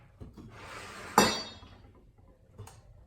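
Broccoli crowns dropped into a metal cooking pot, a single bright clanking impact with a short ringing decay, followed by a fainter knock and light handling sounds.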